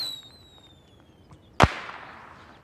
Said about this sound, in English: when you finally get your stacks, there's this explosion